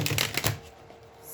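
Tarot card decks are shuffled in a few quick riffling bursts close to the microphone, then fall to quiet.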